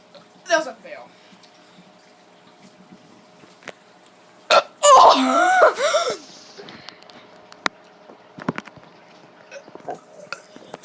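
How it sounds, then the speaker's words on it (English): A child producing wet, gurgling burps: a short one near the start and a long drawn-out rumbling burp in the middle, with quiet pauses, small clicks and faint sounds in between. "for some reason I'm having really wet burps today"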